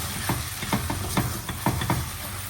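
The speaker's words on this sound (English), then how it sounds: "Once the ghee is hot, I'm going to add our stained vermicelli again. Mix nicely together." Vermicelli is stirred through hot ghee in a pan, giving a steady low sizzle with a series of soft scraping stirs spaced about every half second.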